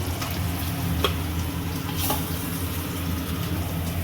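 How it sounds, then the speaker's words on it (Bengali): Steady, close sizzling of eggs frying in hot oil in a pan, with a few faint scrapes and clinks over the constant crackle. "এই ডিমগুলো ভাজা হয়ে গেল এবার আমি এই বাদবাকি এই ডিমগুলো ভেজে নেবো"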